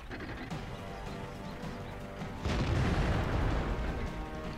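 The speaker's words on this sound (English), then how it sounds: "IS-8 just took a shot." A heavy cannon booms from an IS-8 tank in World of Tanks, the blast arriving midway through a steady rumbling battle soundscape and lingering as a loud low roll.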